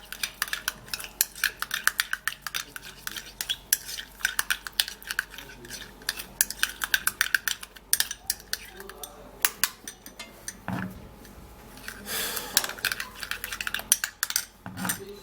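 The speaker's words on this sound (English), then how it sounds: "And then I'm gonna mix it up with this egg white." Egg white is mixed in a small bowl for a homemade under-eye skincare mask, giving rapid irregular clinks and scrapes of a utensil against the dish, close and fairly soft, with a few louder knocks near the end.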